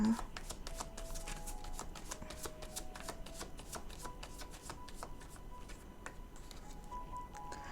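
Tarot cards shuffled by hand at close range: a continuous run of quick, soft riffling and slapping taps, quiet and steady throughout.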